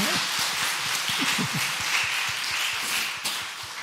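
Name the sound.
congregation applauding children in church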